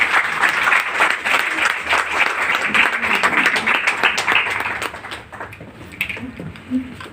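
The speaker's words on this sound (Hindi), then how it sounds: "तो एक बार मैम के लिए जोरदार तालियां" A crowd claps loudly and continuously for a woman invited onto the stage, dense applause that thins toward the end.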